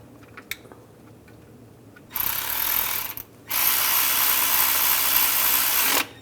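A power tool tightens an alternator bolt on a 2011-2018 Ram 1500, running in two loud, close bursts: a short one of about a second, then a longer whirring run of about two and a half seconds. No one speaks.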